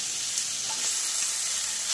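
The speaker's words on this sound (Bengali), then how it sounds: "ধুয়ে রাখা চিকেনগুলো মশলার মধ্যে দিয়ে দিলাম।" Washed chicken pieces drop into a spice paste with ground cumin frying in a pan, setting off a steady, close, bright sizzle that holds level throughout with no talking.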